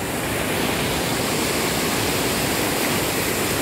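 River water rushing steadily at Khardu dam, a continuous broadband roar of flowing water with no breaks, close and fairly loud throughout.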